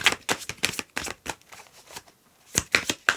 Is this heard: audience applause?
no